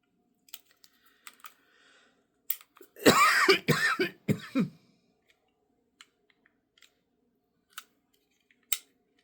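Scissors snip through scrapbook paper in a quiet room, a few sharp isolated cuts followed by a short burst of rapid snipping, then scattered faint clicks and taps, close and fairly soft.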